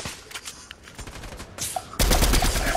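Rapid video game gunfire in a multiplayer shooter, dense bursts of shots crackling close and loud, the volume jumping into a harsher, louder barrage toward the end.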